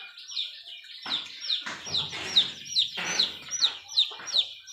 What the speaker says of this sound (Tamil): சின்ன அளவில் நம்ம கோழி ஒரு 6 பெட்டை கோழி, 2 சேவல் இருக்குது.